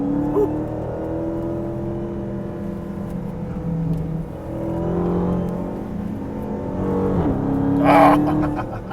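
A 2017 Dodge Charger Hellcat's engine in track mode drones and revs through a slalom, its pitch rising and falling with throttle before swelling louder near the end.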